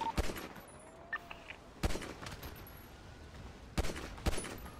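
Gunfire in GTA V NoPixel roleplay: several sharp shots ring out at irregular intervals, with a couple of paired bursts, moderately loud against a quiet game background with no talking.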